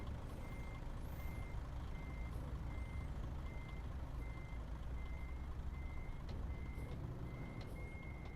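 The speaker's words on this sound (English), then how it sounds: "there's a truck blocking the road at the moment" A truck's reversing alarm beeps steadily at an even rhythm, about once every half second, over a constant low rumble of engine and traffic on a road during Hogmanay, with faint higher squeaks now and then.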